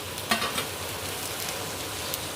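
Chopped onion frying in a tablespoon of ghee for a white pumpkin korma, a steady soft sizzle with a few light clinks of stirring near the start and again near the end, no talk.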